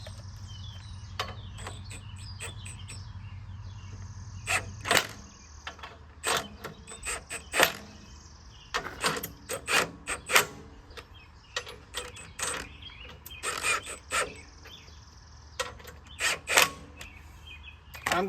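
Bracket bolts on a Kioti tractor brush guard are tightened by hand, with irregular ratcheting clicks and metallic ticks after a low hum stops, close and fairly quiet.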